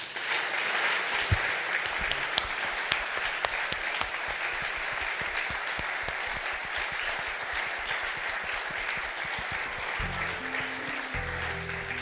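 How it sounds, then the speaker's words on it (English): Sustained audience applause for Robert Morgenthau at an event with Dan Rather, steady and dense for about ten seconds before thinning into a few scattered claps near the end. "A applause for the great, and I use the word measurably, the great Bob Morgenthau."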